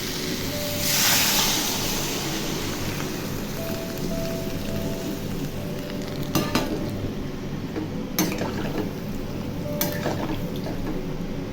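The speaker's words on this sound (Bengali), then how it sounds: "এবার আমি দিয়ে দেবো গরম জল" A steady hiss and bubbling as mildly hot water is poured into a simmering fish curry, with a few sharp metallic clinks of utensils against the pot.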